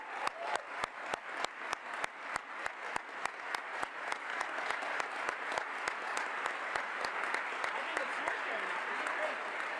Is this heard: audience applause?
yes